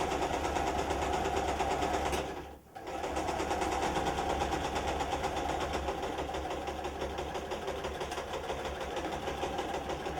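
A sewing machine runs steadily while stitching the seam of an iPad bag, a close, continuous whirring drone with a brief pause partway before it resumes.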